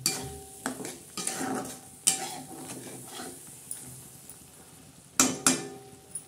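Masala for a Konkani-style black brinjal curry with dried bombil fish being stirred in a pan, giving intermittent scraping and clattering strokes of a spoon with a soft sizzle underneath, a few sharper knocks near the end.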